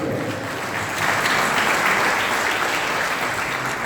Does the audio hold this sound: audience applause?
yes